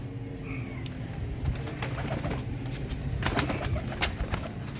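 Royal Teddy pigeons, a group of males, coo steadily in low, rolling, overlapping calls, with soft rustling and a few sharper clicks in the background.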